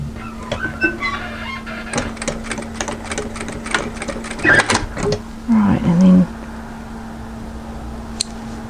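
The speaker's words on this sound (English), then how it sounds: "just sew on top of the existing stitching line just a few stitches" A sewing machine runs a few short stitches over an existing seam line on a camisole top, in brief mechanical bursts over a steady motor hum, with quiet handling noises between them.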